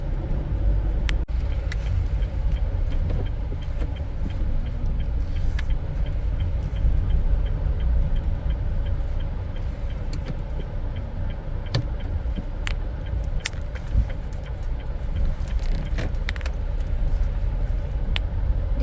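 A car drives along and pulls in to park in a shady spot, with steady close road rumble and engine noise throughout and occasional sharp clicks and knocks. No voices are heard.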